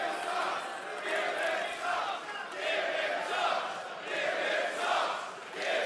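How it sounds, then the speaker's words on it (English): A convention crowd at a RuneFest event booing together loudly, the jeering swelling and ebbing in waves over several seconds. "Why are you booing?"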